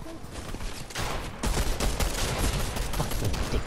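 Rapid gunfire bursts in the video game Fortnite, dense and continuous, growing louder midway and holding as a steady, busy barrage with no talk over it.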